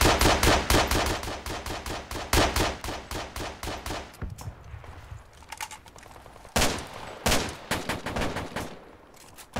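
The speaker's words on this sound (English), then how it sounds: "Look where I'm firing, there's a guy there who just shot at me." Rapid automatic gunfire in the military shooter Project Reality rattles out in fast, loud bursts, with a brief quieter stretch of scattered distant shots before the sustained firing resumes.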